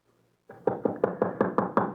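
Seven quick, firm knocks on a door, a sound effect in a werewolf horror tale: a close, evenly paced wooden rapping that follows a brief quiet start, with no voices.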